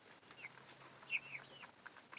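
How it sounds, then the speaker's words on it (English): A few chickens cluck softly nearby, with short high clucks and chirps scattered over a faint, quiet background hum. "Look at these crazy chickens."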